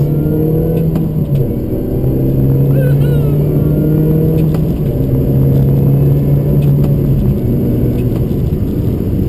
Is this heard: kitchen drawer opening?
no